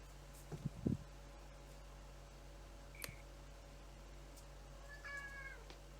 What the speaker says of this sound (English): Not you, sorry, I'm talking to the cat.